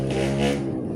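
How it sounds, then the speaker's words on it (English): A motorcycle engine drones in the background with a steady harmonic hum that swells briefly and then fades as it passes, heard alone without talk. "Sorry about the motorcycle background noise."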